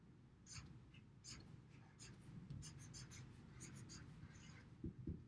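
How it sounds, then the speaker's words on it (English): A pen writing on paper during a guided classroom practice exercise, a faint scratchy run of short strokes with small pauses, fairly close and quiet, with no voices. "I'm also going to write he was in another color"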